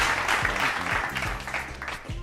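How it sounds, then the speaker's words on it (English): Applause sound effect: a short burst of steady clapping at moderate volume, with a voice speaking over it. "Y'all hit the clap for the homie"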